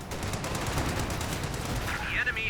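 Pak 40 anti-tank guns and infantry weapons fire in a Company of Heroes 2 battle, a dense, continuous volley of cracking shots and rattling gunfire that stays loud for the whole stretch.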